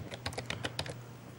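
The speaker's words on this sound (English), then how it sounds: "Now press the up arrow key to call back the command." Fast, light typing on a computer keyboard, about a dozen crisp key clicks in a quick run over a low hum, then quiet.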